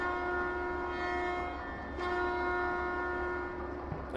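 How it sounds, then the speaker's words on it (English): A model railroad locomotive sounds a long, steady horn blast that holds for several seconds at close range, with a faint click partway through and no voices over it. "Oh, that's got a nice horn."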